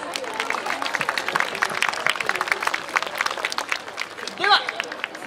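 Spectators at a yosakoi dance parade behind the Ito-Yokado store in Yotsukaido clap in dense, crisp applause that holds steady for several seconds, while a voice speaks over it and a brief sharp call rises near the end.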